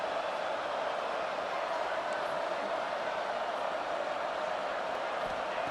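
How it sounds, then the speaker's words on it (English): Stadium crowd in EA Sports College Football 26 roars steadily and loudly throughout, a dense, unbroken wall of cheering from a hostile home crowd early in the game. "Listen to the crowd energy here in the early going. This is a tough environment for visitors."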